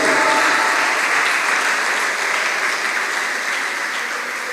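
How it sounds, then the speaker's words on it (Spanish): Congregation at a church service applauding the women, a dense, steady wash of clapping from a large crowd that holds for the whole stretch and fades slightly toward the end. "Un aplauso para las mujeres bellas y hermosas."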